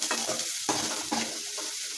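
Ingredients for a North Karnataka breakfast dish fry in hot oil in a pan. A steady, close sizzle runs throughout, broken by the rhythmic scrape and swish of stirring.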